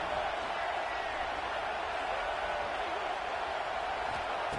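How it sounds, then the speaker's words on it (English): Steady, dense stadium crowd roar from the NCAA 26 college football video game, a loud continuous wash of many voices building during a red zone defensive stand, with no clear breaks. "This crowd is trying to inspire this defense to make a big red zone stop."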